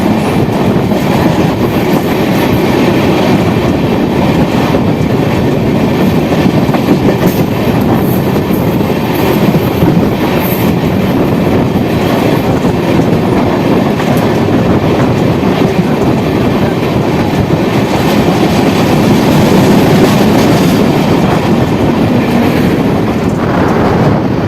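Garib Rath Express with new LHB coaches pulling out of Hayaghat station near the Bagmati river, a loud continuous rumble with rhythmic clickety-clack of wheels over rail joints heard from on board.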